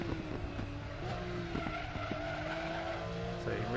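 Tyres of a Porsche Cup race car at Zandvoort squeal under hard cornering, a continuous high whine above the steady engine drone, with a commentator talking over it.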